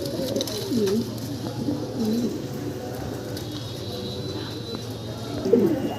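Fancy pigeons cooing in a coop, several low throaty coos repeating at close range over a steady background hum.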